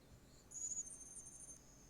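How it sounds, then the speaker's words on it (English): Crickets chirping in an ambient soundscape recording: a faint, steady high trill that swells for about a second over soft background hiss. "crickets chirping."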